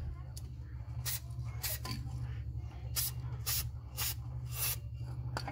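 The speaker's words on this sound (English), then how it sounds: "So I'm just taking white lithium grease" White lithium grease is sprayed between the rear leaf springs of a 2011 Ram 2500 in several short, sharp hissing bursts over a low steady hum.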